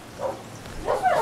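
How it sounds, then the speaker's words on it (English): A dog barks outdoors, two short, somewhat muffled barks from a distance, spaced apart over a quiet background. "I'm not gonna let her sit out there and bark."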